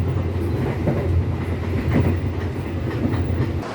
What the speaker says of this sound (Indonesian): Kereta api Kahuripan sekarang tiba di stasiun Tulung Agung